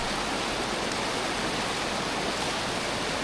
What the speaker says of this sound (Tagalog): medyo malakas yung tubig